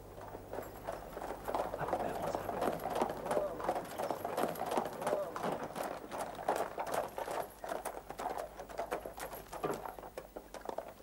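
A horse-drawn carriage pulls up with a steady stream of clip-clopping hooves and rattling wheels, fairly close and constant throughout, with voices speaking over it in a radio drama.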